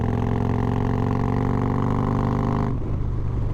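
A Harley-Davidson motorcycle engine fitted with S&S 475 cams pulls hard in sixth gear, making a loud, steady harmonic drone that runs evenly and then shifts abruptly to a rougher, lower rumble near the end.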